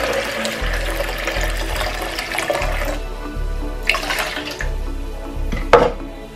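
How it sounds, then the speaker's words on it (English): Water pours into a blender jar holding cucumber, green apple, celery, ginger and lemon for a detox drink: a close, gurgling splashing stream that tapers off into a few drips and clinks. "I'm gonna add 3 cups of water."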